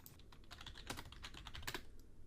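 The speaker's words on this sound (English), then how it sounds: "let's type in our full name, hit enter" A name being typed on a computer keyboard: a quick run of close, light key clicks in uneven rhythm, with a couple of firmer strokes, quiet and without speech.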